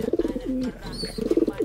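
A checkered pigeon coos close by in a loft, a short series of soft rolling coos, with a brief voice faintly underneath.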